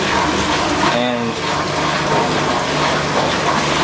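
A 1996 Whirlpool washing machine in a spray rinse, water hissing and splashing steadily inside the drum with a pump or valve hum beneath, while a voice talks over it.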